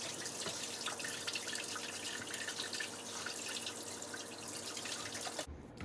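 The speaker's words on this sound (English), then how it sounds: "I'm gonna wash my hands real quick." Hands being washed under a running kitchen tap while making scones, a quiet steady stream of water with soft splashes and drips that cuts off abruptly near the end; no talking.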